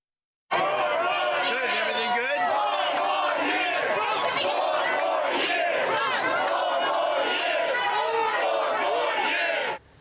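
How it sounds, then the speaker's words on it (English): Outside a bodega, a large dense crowd chants loudly in unison. The roar of massed voices holds steady and close for about nine seconds, then cuts off abruptly. "The crowds chanting 4 more years outside the bodega"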